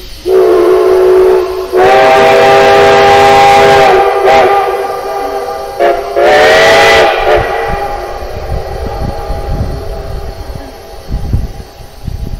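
A steam locomotive on the Cumbres and Toltec line blows its whistle loudly and close by in two long blasts. Each blast carries a strong harmonic tone and hissing steam, and the whistle then gives way to hissing and rumbling as the train prepares to move.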